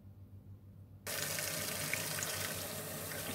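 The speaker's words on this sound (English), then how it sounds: "All right, so we are gonna go wash these up." Beets being washed under a kitchen tap, water switching on abruptly after a quiet moment and then running in a steady, close, full splash into the sink.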